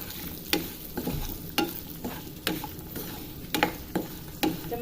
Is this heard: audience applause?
no